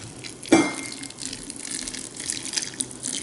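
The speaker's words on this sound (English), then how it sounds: "I just heat up equal parts water and pour it over the food." Heated water poured over dry puppy food in a bowl, a sharp splash at the start settling into a steady, close trickling wash with no talking.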